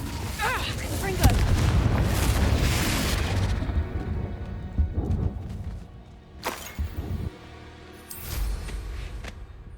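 Booming explosions from a Confringo spell in Hogwarts Legacy, a loud roaring blast filling the first seconds, followed by scattered sharper bursts and thuds, with voices heard among the effects.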